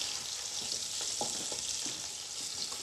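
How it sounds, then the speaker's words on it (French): Chicken pieces sizzle steadily in a frying pan, a continuous bright hiss broken by occasional soft stirring and turning knocks. "Ça grésille gentiment."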